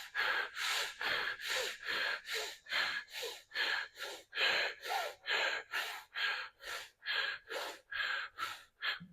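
Quick, forceful breaths pushed in and out through the mouth in a fast, even rhythm, about two per second, close and unbroken with no talking.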